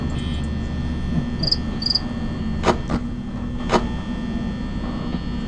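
A phone ringtone imitating chirping crickets plays nearby indoors, a steady bed of insect-like trilling with a few sharper chirps and clicks, no talk over it.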